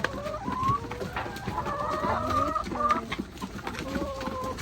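Chickens cluck and squawk close by while being fed, an irregular busy chorus of farm fowl, with faint voices in the background.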